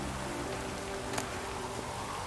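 Steady rainfall in the video game The Witcher 3, a dense, even hiss of falling rain with no breaks, moderately loud and heard alone.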